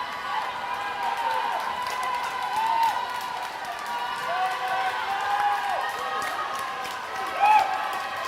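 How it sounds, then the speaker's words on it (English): A crowd at a swimming race cheering, a continuous roar of many voices and scattered applause echoing through an indoor pool, with a commentator-like voice over the noise. "the crowd is going wild for young Mario"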